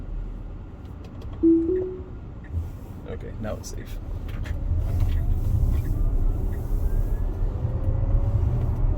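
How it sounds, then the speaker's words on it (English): A car on the road approaches and passes, its engine and tyre noise swelling to a steady rumble in the second half, heard from inside a vehicle driving toward Disney World near a security gate and speed bumps, with a person talking over it. "there's a car coming."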